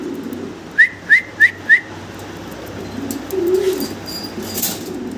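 Four quick, sharp whistle-like chirps come in a row from a pair of Syrian high flyer fancy pigeons, followed by soft low cooing and faint rustling nearby.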